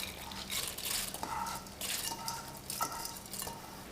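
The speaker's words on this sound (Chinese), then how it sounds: "泡好的糯米放入一个深盘中" Soaked glutinous rice being tipped and scraped into a deep plate, giving a steady close wet rustle and scattered light clinks of grains and utensil against the dish, with no voices.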